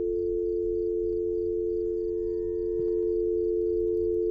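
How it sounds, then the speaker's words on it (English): A steady electronic tone drones from a dead phone line inside a video game, held continuously at an even level with a faint low hum beneath it. "Phone line's dead."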